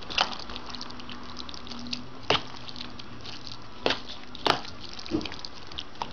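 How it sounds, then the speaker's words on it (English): A spoon works through food in a bowl before it goes into the oven for a Southern Thanksgiving meal, giving soft wet squishes and occasional sharp clicks against the bowl at an irregular pace, close by. "I need to finish mixing this and get it in the oven"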